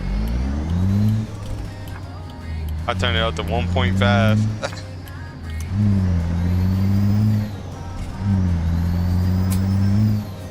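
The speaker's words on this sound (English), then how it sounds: "If I can get this truck started" A simulated Peterbilt 362 truck engine in American Truck Simulator revs in repeated rising surges, with a loud low drone and brief dips between pulls, while someone talks over it.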